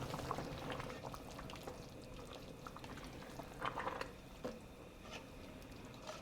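Worcestershire sauce poured into a pot of simmering American goulash, a faint bubbling, liquid texture with a few soft splashes and wet squelches, quiet and without talk.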